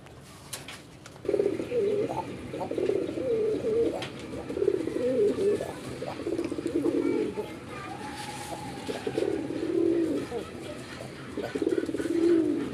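Pigeons, a pair of mukhi breed birds, coo in repeated low rolling phrases throughout, close and steady, with faint background chirps and distant noise.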